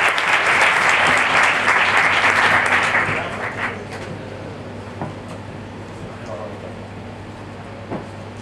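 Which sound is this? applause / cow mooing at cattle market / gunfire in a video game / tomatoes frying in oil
applause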